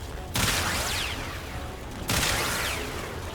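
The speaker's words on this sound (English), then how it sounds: "he basically fires quills that add viral to the enemies" Warframe companion rapidly firing viral-status quills at enemies, a dense, steady stream of sharp shots in two long bursts with a brief pause between, fairly close and continuous.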